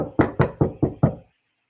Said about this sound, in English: there was a knock on the front door